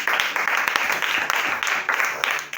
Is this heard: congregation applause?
yes